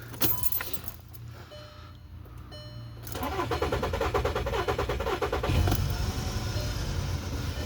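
A German car with an oil change under way starts up: keys jangle, then the engine cranks and catches about three seconds in, settling into a steady, close idle.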